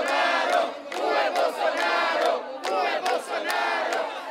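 A crowd of protesters at a street demonstration in Brazil shouts and chants together, a dense, continuous roar of many voices with rhythmic bursts of yelling.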